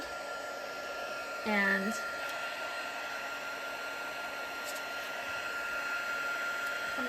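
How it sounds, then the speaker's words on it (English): A heat gun runs steadily for embossing on cardstock, a constant airy blowing roar throughout, with a brief voiced word near the start. "keep moving your heat gun continuously"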